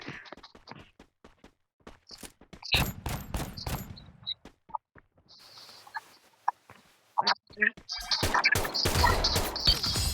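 Scattered M500 gunshots from the Free Fire game crack out in sharp bursts amid chatter, building to a dense, loud volley near the end, with players talking between shots.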